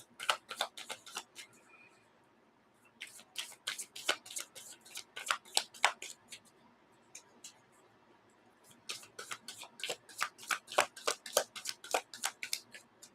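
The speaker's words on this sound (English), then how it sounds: "One more shuffle." Quiet, rapid clicking and riffling of playing cards being shuffled, in two bursts separated by a brief lull, heard up close.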